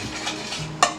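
A spoon stirs lemon bundt cake mixture in a bowl, a soft scraping swirl followed by two sharp clinks of utensil against the dish.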